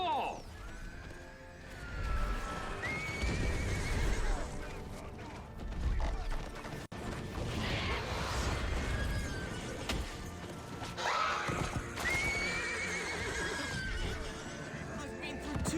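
Horses whinny loudly in the Xbox 360 game Lord of the Rings: Conquest (2009), with hoofbeats pounding under battle music and effects, two strong neighing bursts rising out of a dense, busy game mix.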